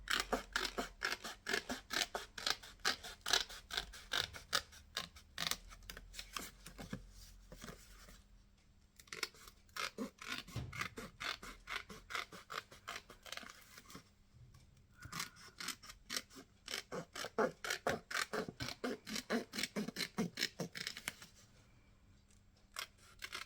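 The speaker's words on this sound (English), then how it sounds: "So I very carefully cut that middle bit out so I can use the back" Paper being carefully cut with scissors for a gluebook, a long run of crisp, close snips in quick rhythmic bursts with short pauses between, no talking.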